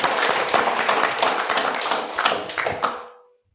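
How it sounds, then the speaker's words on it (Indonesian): Clapping at an official land-registry evaluation event in North Jakarta, a busy patter of hands applauding together for a few seconds before stopping abruptly. "Tepuk tangan nih untuk kolaborasi kita bersama."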